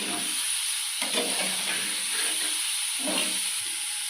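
Fried cauliflower pieces hit a pan with green chillies, tomato and salt, giving off a continuous hissing sizzle broken by a couple of stirring scrapes, close and unvoiced.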